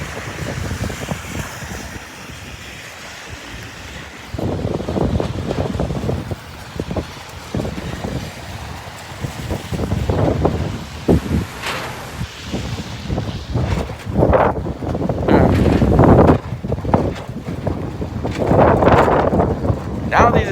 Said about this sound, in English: there goes a good little gust there